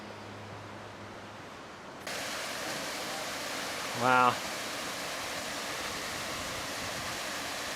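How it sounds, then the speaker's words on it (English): A waterfall on Goose Creek in the Lost Creek Wilderness sends out a steady, broad roar that swells as the view turns toward it. One person briefly exclaims over the constant rush. "kind of waterfall."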